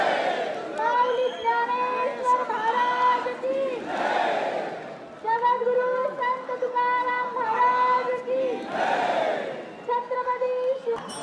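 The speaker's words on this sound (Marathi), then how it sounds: "गर्दी बघा किती लोक यायला लागले." A large crowd of pilgrims gathers at the Pandharpur temple for the Ashadhi Wari, their massed voices rising in repeated chant-like phrases over a constant crowd hum.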